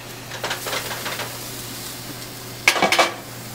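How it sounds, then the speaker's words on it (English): A lid lifted off a covered pan of cooking food, a short clattering handling burst near the end after quieter kitchen rustling, with faint frying underneath. "Take the lid off."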